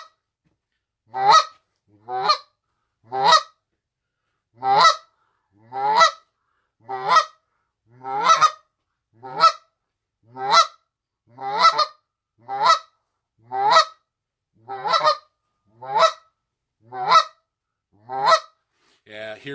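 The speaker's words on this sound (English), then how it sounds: "So here's a cluck real quick before I start doing Q&A." A next-generation Bicahuna goose call blown in quick goose clucks, about eighteen short honking notes in an even rhythm, each separated by silence, close and clear with no talk.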